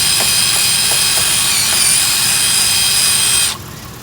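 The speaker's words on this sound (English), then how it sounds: "I'm gonna run that wire brush in there like that." A wire brush on a spinning power tool cleans seized brake caliper slide pins from a 2008 Lexus IS250, a steady loud whirring grind held close for about three and a half seconds before it winds down, with no voices.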